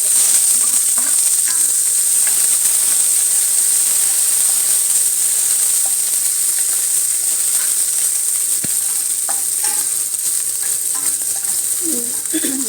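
Chopped onion, green chillies, dried red chillies and curry leaves sauté in hot oil in a pan, giving a steady, close, continuous sizzle and hiss with faint stirring scrapes throughout.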